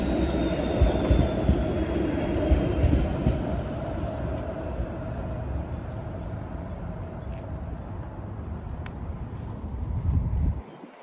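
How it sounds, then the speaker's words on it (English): A Toronto Bathurst streetcar, route 511, rumbles past on rails in the city, a loud continuous low roar with faint wheel squeal that cuts off abruptly near the end. "Look, it's a Bathurst streetcar."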